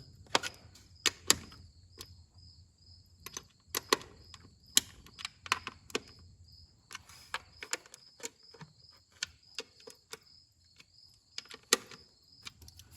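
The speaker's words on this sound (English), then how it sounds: "Just went around, snug them all up with the ratchet" A ratchet snugging the CCV filter cover bolts on a 2017 Ram 3500 Cummins, with short bursts of quick, crisp clicking at close range separated by brief pauses, and no talking.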